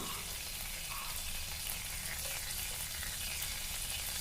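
Green chillies and curry leaves fry in a pan for tomato chutney, a continuous dense sizzle and crackle with faint stirring, steady and fairly quiet, with no voices.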